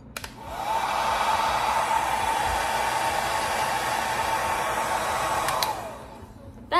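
Hot Tools Quietair Power hair dryer running on high speed, a steady, loud whooshing airflow that switches on, holds for several seconds and cuts off with a couple of clicks.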